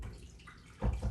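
Water poured into a blender while making potato corn chowder, a short gush splashing in near and fairly loud after a brief quiet moment.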